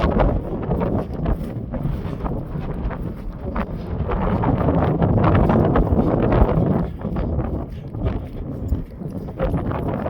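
Heavy gusts buffet the microphone in a continuous roar, swelling louder in the middle and easing slightly toward the end.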